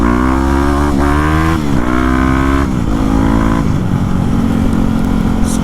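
A motorcycle revs loud and close while popping a wheelie on private property, its engine note climbing in about four surging pulls with short breaks between, then settling into a rougher, steady drone, with no voices.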